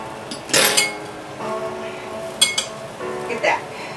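Peas being mixed into a salad in a bowl for a blackened salmon and farfalle pasta meal, giving a few clinks and scrapes of utensils against dishes in short bursts, fairly close.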